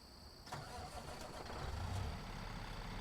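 A semi-truck engine in American Truck Simulator cranks and catches, then settles into a steady low rumble that grows slightly louder, close and continuous.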